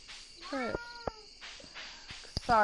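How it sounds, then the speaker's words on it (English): A house cat meows several times, drawn-out cries repeated with pauses between them and close to the microphone, mixed with a few sharp knocks and short bits of speech. "Sorry about my cat, guys."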